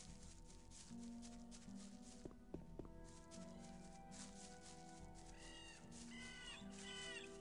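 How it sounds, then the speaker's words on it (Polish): Crows cawing in Gothic 1, several harsh caws repeating in the latter half over a quiet ambient drone, with a few soft footstep-like knocks earlier, faint overall. "Straszne te wrony zasrane"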